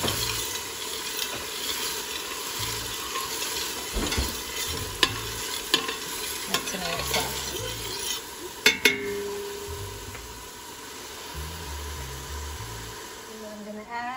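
Meatballs frying over medium heat in a pan, a continuous low sizzle with occasional clinks and scrapes of a utensil against the cookware, while a person talks over it.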